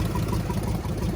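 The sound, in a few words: car engine idling, possible exhaust manifold leak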